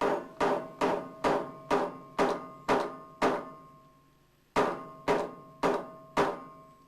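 A hammer flattens a metal crimp sleeve on a homemade trapping catch pole, about eleven sharp, ringing metallic blows in a steady rhythm, then a pause and four more strikes, close and loud.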